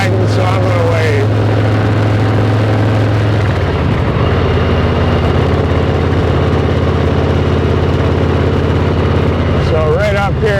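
A Harley-Davidson motorcycle on the move, its engine a steady, loud, continuous drone with wind rush throughout, pitch shifting slightly as it travels a road near Stockbridge.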